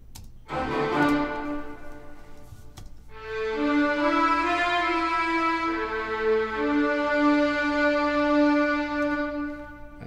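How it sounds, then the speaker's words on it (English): First violins from an orchestral sample library enter softly and swell into sustained, evolving bowed notes that shift pitch smoothly, a thin opening phrase dropping out briefly before the fuller section tone returns and holds. "let's listen to the first violins here"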